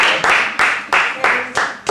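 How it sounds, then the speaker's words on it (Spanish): A small group claps at a classroom presentation session, sharp bursts in a quick irregular rhythm, close and fairly loud for under two seconds. "Les voy a pedir que le damos un fuerte aplauso al primer equipo que va a exponer"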